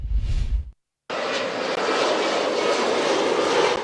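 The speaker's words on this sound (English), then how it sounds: "As the planes come flying in at a buzzing Mitchell International Airport" A plane flies in at a busy Mitchell International Airport with a loud, steady, broadband engine roar that starts abruptly after a brief cut and holds close and strong, with no talk.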